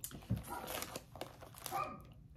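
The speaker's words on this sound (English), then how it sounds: "dogs are barking" Dogs bark somewhere in a home, a few short yelps mixed with some crinkling and handling noise, moderately faint and brief.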